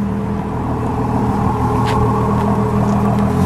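A yellow 2017 Ford GT with a turbocharged V6 runs steadily, a loud, continuous close-up engine drone with deep rumble throughout and no speech.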